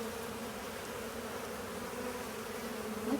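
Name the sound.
honeybees buzzing at the hive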